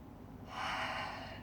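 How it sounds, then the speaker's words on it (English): A single deep breath taken during a yoga class, a soft airy inhale swelling in the middle of the moment and easing off, close and moderately quiet with no talk. "One more deep breath."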